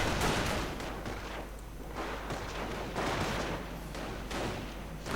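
Airborne troops firing in a video game, a dense loud stream of overlapping gunshots and booming impacts in bursts, no voices over it.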